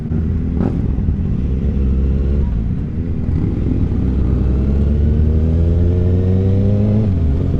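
Many motorcycle engines rumble and rev together at the Port Dover Friday the 13th bike rally in Canada, a loud continuous drone with rising revs near the end and faint voices mixed in.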